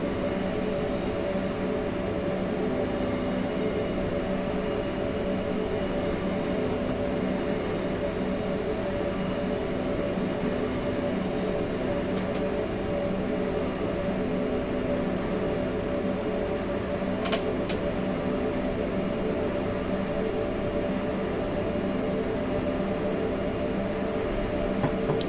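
A train on the Semmering mountain railway in Train Simulator rumbles steadily and evenly throughout, a continuous loud drone with no break.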